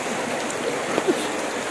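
Heavy rain and runoff wash over a car during a typhoon, a steady rushing hiss of water with a few brief splashy spikes and faint voices in the background.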